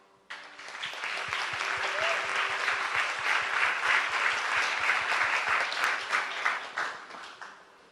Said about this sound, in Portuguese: Eu gostaria de uma salva de palmas.